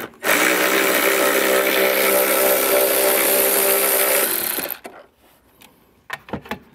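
A power tool backs out a 10 millimeter screw during vehicle wiring harness installation, a loud steady whir held for over four seconds, then cutting off into faint clicks and handling taps close by.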